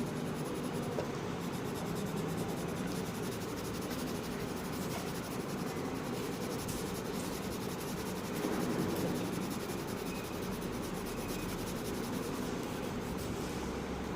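A pencil shades on paper in a continuous soft scratching rub, steady and close, lasting the whole stretch without any talk.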